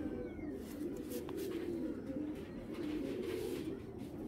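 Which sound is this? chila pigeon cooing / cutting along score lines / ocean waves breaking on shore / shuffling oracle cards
chila pigeon cooing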